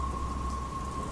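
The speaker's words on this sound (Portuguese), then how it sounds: "Trovões e relâmpagos faziam a festa lá fora, e Padre Fernando continuou sua história" Heavy rain pours in a steady roar with a deep rumble of thunder underneath, constant and loud throughout the short stretch, with no voices.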